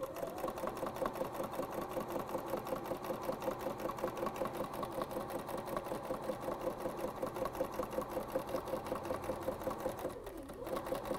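A sewing machine stitching quarter-inch seams on quilt fabric for a table runner, a close, steady rapid mechanical whir running continuously with one brief pause near the end.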